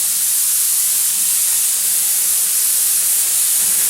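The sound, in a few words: airbrush spraying paint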